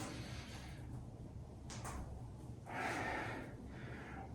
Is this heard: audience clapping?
no